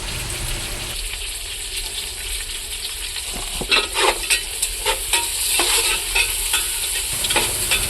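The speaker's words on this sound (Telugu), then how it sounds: "మనం ముందుగా తీసుకున్న చికెన్ అయితే కొద్దిగా కడుక్కొని పక్కన పెట్టుకుని ఇప్పుడు మనం వేసుకుంటున్నాం" Washed chicken pieces go into a pot of fried onions and mint for dum biryani, cooked aboard a truck, giving a steady close sizzle with wet stirring and scraping that grows busier toward the end.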